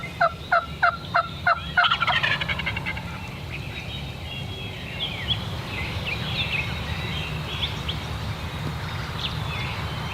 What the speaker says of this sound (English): There's another gobbler just flew down in the field with those hens.